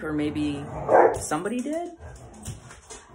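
Dogs bark and yip indoors near someone speaking, a couple of sharp barks and whimpers cutting through and overlapping her ongoing talk.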